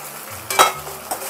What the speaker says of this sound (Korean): 그리고 섞어줍니다